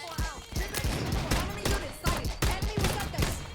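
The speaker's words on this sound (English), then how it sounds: "Why is my gun shooting so slow?" Gunfire from a 9mm PM in Black Ops 6, a run of sharp shots in an uneven, fairly slow rhythm over busy in-game noise and faint voice, loud and close throughout.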